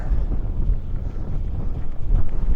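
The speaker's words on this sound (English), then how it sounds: "Whoa, it's windy today." Strong wind buffets a microphone at an abandoned raceway with a constant low rumble and gusty roar, loud and unbroken for a few seconds.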